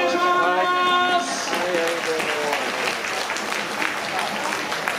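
A baseball crowd at Kusanagi Stadium breaks into dense, sustained applause that fills the stadium. A voice over the PA rings out under the opening of the clapping, and the applause carries on steadily to the end.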